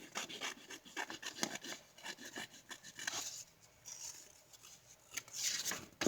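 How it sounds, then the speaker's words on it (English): Scissors snipping through a paper envelope up close, a string of quiet rasping cuts in uneven strokes, with a short pause midway before a few more cuts. "take your scissor and just cut off what you don't need"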